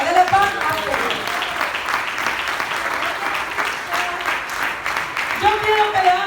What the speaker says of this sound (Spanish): Dele palmas a Dios.